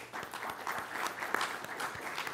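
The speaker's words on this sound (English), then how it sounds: "I'd like to just start by giving them a round of applause" An audience applauding steadily at a community event, a dense, even wash of clapping throughout at moderate level.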